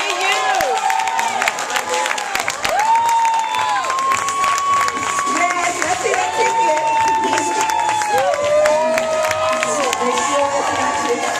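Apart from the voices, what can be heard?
crowd cheering and applauding a winner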